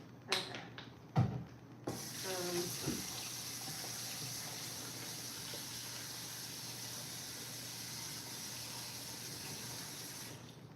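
Warm water runs steadily from a kitchen tap into a bowl, a continuous hiss-like rush lasting several seconds after a few clattering handling knocks at the start.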